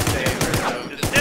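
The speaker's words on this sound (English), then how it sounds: "Stop shooting my friend!" Rapid automatic gunfire in the video game Infestation: The New Z, a rhythmic burst of close, loud shots repeating several times per second across the whole moment.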